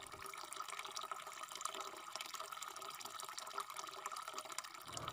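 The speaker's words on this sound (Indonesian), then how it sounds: "Setelah air mawarnya dicampurkan ke dalam tawas, kita aduk sampai tercampur rata." Rose water mixed with alum being stirred, a quiet, continuous liquid swishing and trickling that runs throughout.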